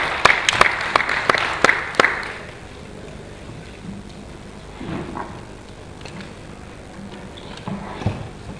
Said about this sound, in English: Ladies and gentlemen, please let's give her a round of applause.